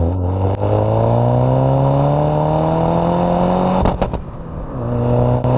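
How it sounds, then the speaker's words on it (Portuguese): A Saab 9000 Aero accelerates hard in first gear with wheelspin, its engine note climbing steadily up the revs, loud and close, before a brief gear-change dip and renewed pull; no talking. "Então, primeira marcha, muita patinada nas rodas."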